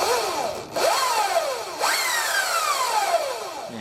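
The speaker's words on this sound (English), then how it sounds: "I'm going to turn it on again and I'll blip the throttle" A Luna Cycle e-bike motor with a 219 chain drive is blipped three times, each burst whining up in pitch and then winding down, close by with no talk.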